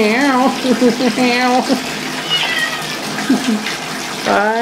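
A calico cat meows repeatedly in a bathtub at bath time, several loud drawn-out meows and caterwauls close by, with running water faintly beneath.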